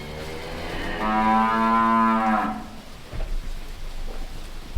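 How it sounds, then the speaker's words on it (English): Dairy cows give one long, loud, close moo as they are let out of the shed after feeding, followed by quieter farmyard clatter and shuffling. "He's just letting the cows out."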